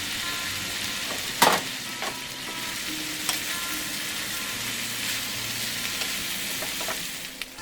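Mushrooms fry in a pan with a steady, continuous sizzle and a few sharp crackles and pops, close up and alone without any voices.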